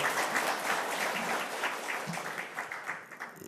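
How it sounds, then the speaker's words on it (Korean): Applause from the audience at a Korean policy forum on digital piracy and copyright education, greeting a National Assembly member who is about to give a welcome address; steady, moderately faint clapping fills the room and thins toward the end. "박수로 맞아주시기 바라겠습니다"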